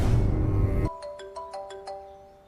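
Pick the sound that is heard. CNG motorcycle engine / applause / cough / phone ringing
phone ringing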